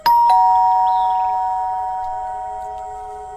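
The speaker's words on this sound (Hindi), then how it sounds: "कुछ देर बाद डोरबेल बजती है।" A single loud electronic doorbell chime rings out, its two tones sustaining and slowly fading in an otherwise quiet room.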